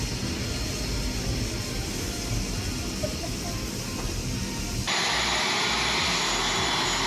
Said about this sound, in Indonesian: Dan akhirnya pesawat kita yang dari Yogyakarta tiba di Bandara Halim.